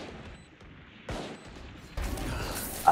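Bursts of rapid gunfire crackle in quick succession in the video game Valorant, growing denser toward the end of the short clip.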